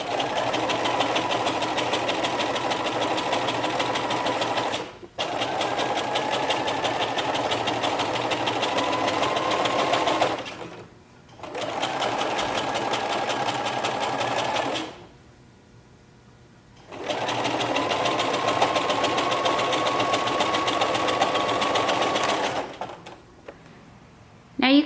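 A sewing machine hems knit T-shirt fabric backed with fusible interfacing, running in four steady bursts of several seconds each, separated by short pauses.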